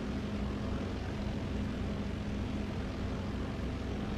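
A propeller airplane engine in the flight game Air Wingaling drones steadily, a constant even hum with a low tonal whine throughout, no speech.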